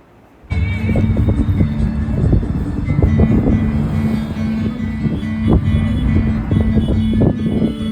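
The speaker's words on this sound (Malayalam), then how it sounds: "എയർപോർട്ടിൻ്റെ സൈഡിൽ പോകുമ്പോൾ നമുക്കൊരു ടേക്ക് ഓഫ് കാണേണ്ട ഭാഗ്യം ഉണ്ടായിട്ടുണ്ട്" An airplane takes off from an airport runway, heard from a passing vehicle as a loud, steady roar that swells in abruptly and holds with a deep rumble.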